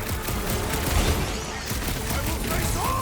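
Dense crackling bursts of fireworks in a superhero video game, a busy continuous fusillade of pops and booms across the whole stretch, loud and close with game sounds around it.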